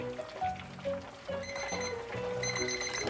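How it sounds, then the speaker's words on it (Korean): A kitchen timer rings with repeated bright, electronic beeps while tofu fries for sweet-and-sour tofu, the soft sizzle of hot oil steady underneath. "이렇게 시간이 알람이 울리면"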